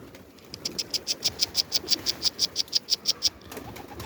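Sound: Mardin pigeons cooing and flapping

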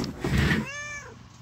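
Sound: cat meowing

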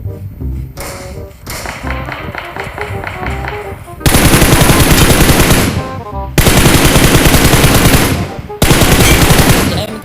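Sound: gunfire in the video game PUBG Mobile

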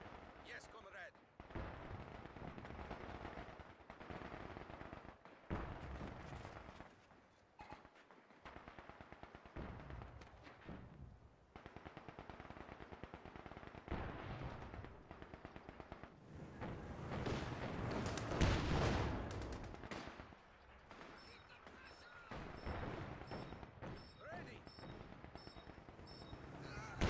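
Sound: machine gun fire in video game Company of Heroes 2

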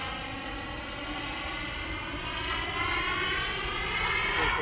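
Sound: Freewing F22 Raptor model jet with KingTech turbine landing

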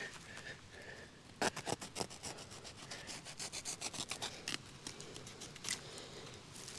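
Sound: cutting fabric out of gravel

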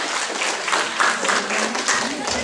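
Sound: audience applause at a circus show

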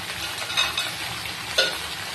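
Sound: frying flat beans and potatoes in a pan

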